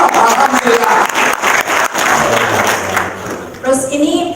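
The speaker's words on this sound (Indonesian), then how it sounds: "Tepuk tangan dong." An audience claps and cheers in a dense burst that fades after a few seconds, then a voice speaks over the tail end.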